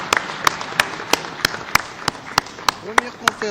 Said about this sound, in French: Nous pouvons quand même applaudir.